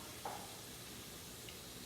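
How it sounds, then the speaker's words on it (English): Faint, steady sizzling from food frying in a pan, a soft broadband hiss with a brief clink near the start and no talking. "I can hear that sizzle"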